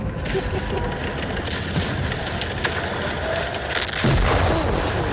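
Tank cannon fire in the video game World of Tanks comes as heavy booms over a constant rumbling engine drone, with a louder impact near the end and voices heard faintly underneath.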